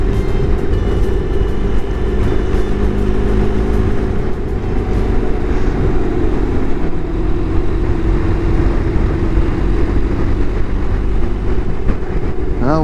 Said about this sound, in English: And the wind has picked up again.